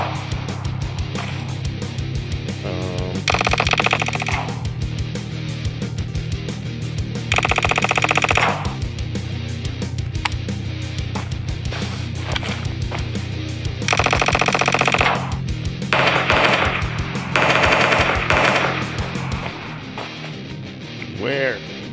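Automatic gunfire in the PUBG Mobile battle royale game, several rapid bursts of a few seconds each separated by pauses, loud and close over a constant low game hum.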